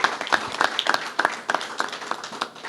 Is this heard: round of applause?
yes